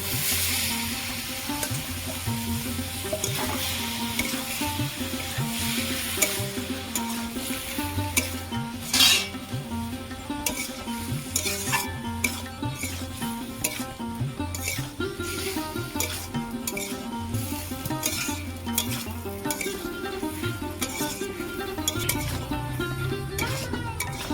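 Boiled elephant foot yam stalks go into a thick gravy with prawns, followed by steady stirring and scraping of a spoon against the pan, with soft sizzling and clinks underneath throughout.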